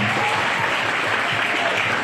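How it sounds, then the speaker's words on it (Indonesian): Steady, dense applause from a crowd, continuous clapping filling the whole stretch without pause. "Ayo, tepuk tangan sekali lagi untuk 5 orang pemberani ini."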